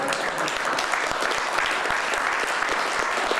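Crowd applauding at a crypto summit press conference, dense continuous clapping from many hands, fairly close and steady throughout with no talk.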